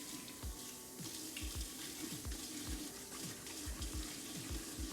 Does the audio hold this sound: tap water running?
yes